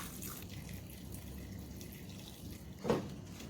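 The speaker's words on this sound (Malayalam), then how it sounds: "കുറച്ച് തിളപ്പിച്ച വെള്ളം കൂടി ഒഴിച്ചു കൊടുക്കട്ടെ ഇതിൽ" Boiled water pours steadily in a continuous splashing stream onto dates for pickle, with a brief louder splash near the end.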